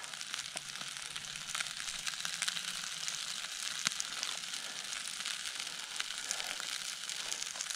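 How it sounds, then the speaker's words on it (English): Perch fillets fry in a cast iron pan on a firebox stove outdoors, giving a steady, even sizzle with scattered crackles that holds at the same level throughout, close up and with no voices. "Throw these perch in. And everything's cooking up pretty good."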